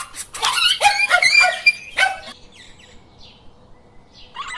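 A group of dogs surrounding a teiu lizard, barking and yipping in a rapid loud burst of overlapping barks, then quieter scattered yelps and whimpers as the commotion fades.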